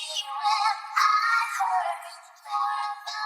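Chorus vocal from a pop song, an isolated, bright, filtered singing voice with the low end removed, phrases rising and falling over a few seconds.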